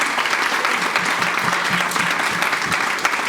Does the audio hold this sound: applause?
yes